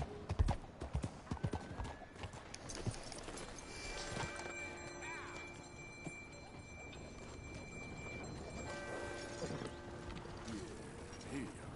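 Hooves clip-clopping in Red Dead Redemption 2, a rhythmic trot with creaking tack and occasional horse noises amid town ambience, starting loud and then settling beneath background voices.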